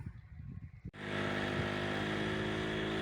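A moped rides along the edge of a field, its engine starting abruptly into a close, steady, buzzing drone that carries on without a break.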